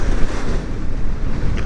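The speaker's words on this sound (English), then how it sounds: "It's windy." Steady wind buffeting the microphone, a continuous low roar with gusty swells throughout, no voices.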